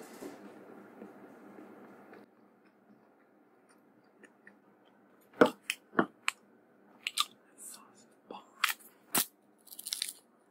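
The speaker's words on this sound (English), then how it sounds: "So we got ourselves some Chick-fil-A. Should we do a mukbang?" Chick-fil-A food being eaten, with crisp bites and chewing crunches arriving as sharp, close bursts in the second half after a stretch of low background hum.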